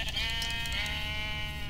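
Sheep in the Minecraft video game bleating once, a clear, wavering, drawn-out bleat up close over a faint background hum.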